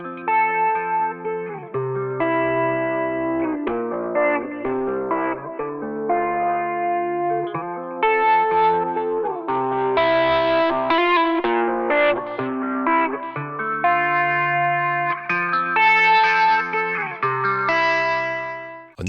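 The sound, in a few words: AIR Multiband Filterbank pre-drive saturation distortion examples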